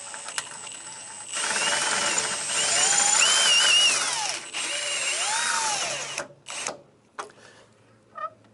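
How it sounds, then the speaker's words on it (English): A power drill fitted with pilot bits bores into a carbon fibre splitter, whining steadily with rising and falling motor pitch, then stopping into a few short bursts near the end. "Hopefully with pilot bits we'll actually get through this quite easily."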